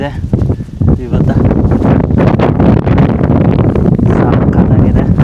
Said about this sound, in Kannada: ಹಂಗೆ ಬರ್ತಾ ಇದೆ ಗಾಳಿ ಕೂಡ